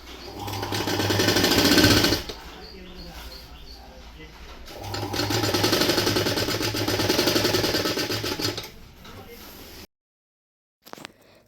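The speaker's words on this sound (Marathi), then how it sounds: "याला व्यवस्थित अशी टीप मारून घेणार आहे" A sewing machine runs stitching a lining onto a girl's skirt sewn from sari fabric. Two long, steady, fairly loud runs of needle chatter are separated by a slower stretch, then the motor stops and a brief tap follows.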